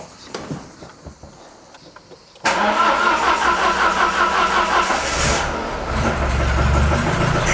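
A Peugeot 205 that had caught fire cranks over with a few quiet clicks and whirs, then its engine catches abruptly and runs loud and steady, close to the car.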